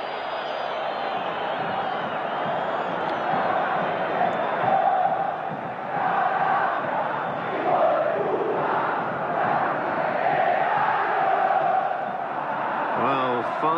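A huge football stadium crowd at a Boca Juniors vs River Plate match roars and chants without pause, dense and loud, with a commentator talking over it.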